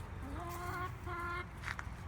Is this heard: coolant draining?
no